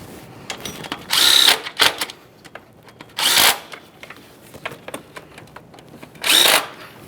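A power tool on a Ford Ranger 2.3L four-cylinder runs three short whirring bursts, close and fairly loud, while tightening fuel injector bolts. Light clicks and handling noise fall between the bursts.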